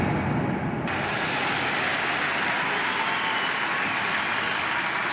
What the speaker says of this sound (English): Crowd responding to that.